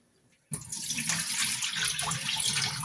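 Rinse water suddenly starts pouring off basmati rice in a steady close splashing stream after a brief quiet moment, running continuously to the end.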